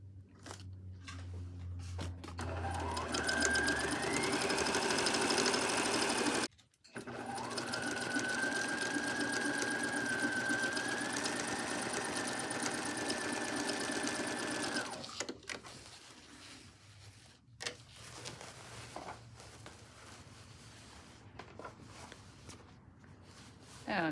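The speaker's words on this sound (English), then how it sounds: "Now that I've got it all pinned, I'm going to sew that side." A sewing machine stitching along the long side of a pinned table runner, running steadily with a brief pause, then quieter handling and rustling.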